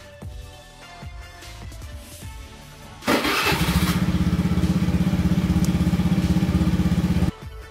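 A low electrical hum plays, then a starter whirs and a Honda Beat Fi injection scooter engine catches, running with a steady rapid chug before cutting off abruptly.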